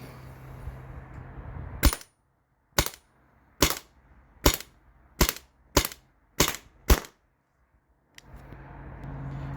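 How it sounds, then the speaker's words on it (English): A modified Byrna TCR launcher fires rapidly through a full magazine, eight sharp, loud cracks in quick succession with short pauses between, set against quiet outdoor background. "So I'm just going to mag dump on this thing."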